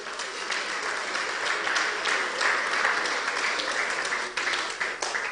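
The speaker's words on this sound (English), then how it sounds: "International Breweries deserves a round of applause for this" Sustained audience applause at an International Breweries event, a dense, even wash of many hands clapping at fairly close range throughout, with no voices over it.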